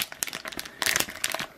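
A plastic blind bag for horror-themed figural keyrings crinkles and crackles up close as it is handled and cut open with scissors, a quick burst of dense rustling with no talking.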